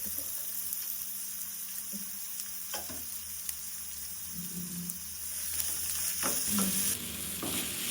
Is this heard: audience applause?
no